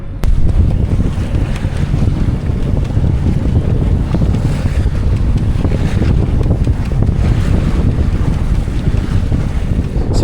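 A strong headwind roars across a sailing yacht at sea near Barbate, Cádiz, Spain, buffeting loudly and continuously with rushing waves underneath throughout.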